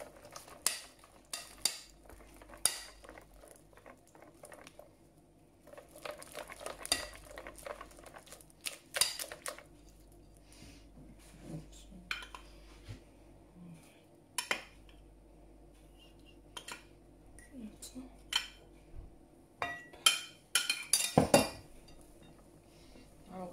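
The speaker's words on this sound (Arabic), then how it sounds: "كنبداو نخلطو هذا في اتجاه واحد كما كتشوفوا" Nesquik cake batter stirred by hand in one direction in a bowl, with scattered clinks and scrapes of a utensil against the dish, quiet stretches between, and a louder cluster of clatter near the end.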